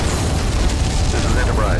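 A Klingon ship exploding in the Star Trek Legacy game, a short, loud booming blast with rumbling debris and a rising whine, mixed with game voices.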